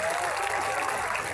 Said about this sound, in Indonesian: Tepuk tangan untuk Madiun.